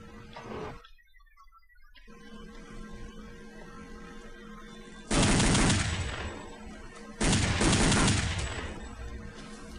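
Automatic rifle fire in Counter-Strike: Condition Zero Deleted Scenes, two loud sustained bursts of rapid shots about two seconds apart, standing out over a quieter ambient game background after an earlier faint burst.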